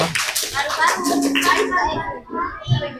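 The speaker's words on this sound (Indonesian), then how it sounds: "Tepuk tangan untuk kelompok paru-paru." A classroom group breaks into quick, scattered clapping mixed with children's voices, fairly close, fading after a few seconds.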